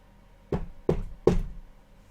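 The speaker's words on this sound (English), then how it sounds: "Did you not hear the knocking?" Three firm knocks on a door, spaced about a third of a second apart, close and distinct against a quiet room with no talking.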